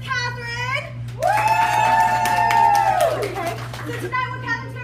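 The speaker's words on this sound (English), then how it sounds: "give a round of applause to Miss Catherine" A party audience cheers for the hostess, with one drawn-out rising and falling 'woo' carried over scattered clapping and crowd noise, while children's voices chatter before and after.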